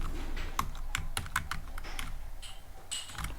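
Fast typing on a computer keyboard, crisp close keystrokes in irregular bursts with brief pauses between clusters, alone without any voice.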